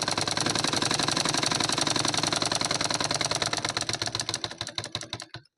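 A sewing machine stitches a cotton blouse lining in a fast, steady mechanical chatter, close and loud, then slows into separate distinct stitches before stopping.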